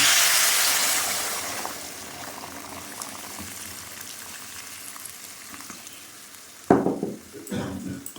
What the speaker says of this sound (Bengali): উষ্ণ গরম জল দিলাম